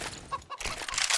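A chicken in the video game Counter-Strike, on the Inferno map during a competitive match, gives a brief squawk amid dense game noise and gunfire-like clatter.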